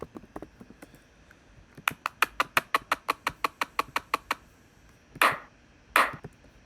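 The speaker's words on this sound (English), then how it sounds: "So we've got our three claps." A rapid, even series of sharp clap hits plays in sequence, followed by two louder, fuller layered claps with a short tail.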